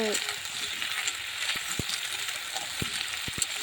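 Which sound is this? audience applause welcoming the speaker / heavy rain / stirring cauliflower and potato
stirring cauliflower and potato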